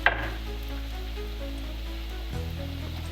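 Potato paratha fries in hot oil in a wok, giving a steady, close sizzle that runs unbroken throughout, with a brief clatter at the very start.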